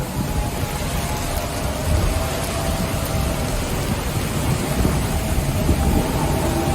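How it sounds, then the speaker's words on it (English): Heavy rain hammers down at sea aboard a racing sailboat during a Vendée Globe race, a dense, constant roar with steady low rumble and no pauses or voices. "Crazy rain, look at that."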